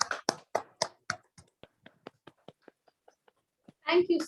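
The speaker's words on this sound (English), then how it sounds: "Can we please unmute ourselves and give a big round of applause for our General Evaluator?" Online meeting participants clap over their microphones, a handful of close, distinct claps that thin into sparse, fainter taps before a voice starts talking.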